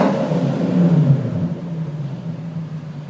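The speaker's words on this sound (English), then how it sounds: "just put the resonators in, did the different exhaust sizes, and Luke's gonna hit it." A Lexus GS430 V8 with aero turbine mufflers and aero resonators revs once, swelling to a peak and then settling back to a low rumbling idle, loud and close with no talking.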